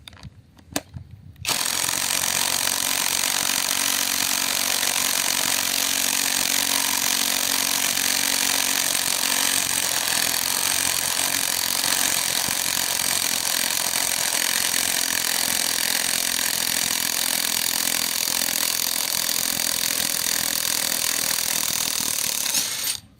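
A VVOSAI WS-Z9-CIP cordless impact wrench unscrewing, a brief click and start-up and then one loud continuous high-pitched whirring hammer that runs unbroken for over twenty seconds before cutting off, close by with no talking.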